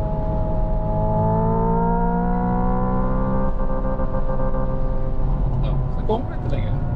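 A Hyundai Ioniq 5 N electric car in third gear at 6,500 rpm gives off a loud, continuous synthesized engine drone with rising, sweeping harmonic tones, sustained at high revs throughout.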